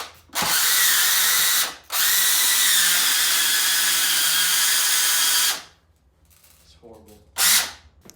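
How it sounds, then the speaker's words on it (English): Cyma Sport CQB electric airsoft gun with its motor and gears slipping, a loud sustained grinding whir in two long bursts, then a short final burst after quiet handling noise. "What you just heard was the motor and gear slipping from each other"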